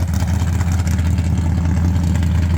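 A big-block 383 in an AMC Javelin rumbles at a steady idle through its exhaust, a deep continuous low throb that stays close and even with no talking over it.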